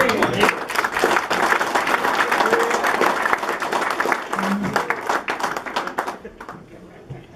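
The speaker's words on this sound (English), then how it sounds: "So another round of applause." Guests at a retirement party give a round of applause, lively clapping that holds strong for several seconds, then thins out and stops near the end.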